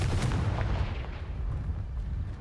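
A Confringo fire spell blast in Hogwarts Legacy booms out as a sustained, low rumbling burst, loud and dense from start to finish, with no talking.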